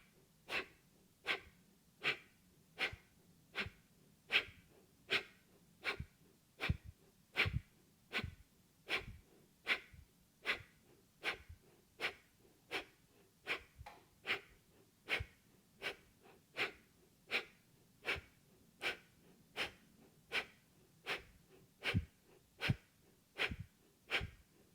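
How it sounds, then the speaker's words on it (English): Breath of fire, the rapid rhythmic yoga breathing: sharp, forceful nasal exhalations repeat at a steady brisk pace, roughly one or two per second for over twenty seconds, close and fairly quiet, with no talking. "If you feel like you're out of breath, just come into normal breathing for 1 or 2 cycles and then come back to the breath of fire."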